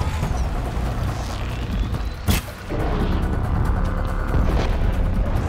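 A hit lands on a machine's cannon during Horizon Zero Dawn combat, a sharp booming burst that stands out briefly from continuous loud game noise and music.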